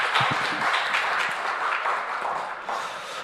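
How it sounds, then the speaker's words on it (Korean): A church congregation applauding during a Sunday worship service, a dense, sustained wash of many hands clapping together that fills the room, then tapers slightly toward the end. "하나님께 영광의 박수하겠습니다"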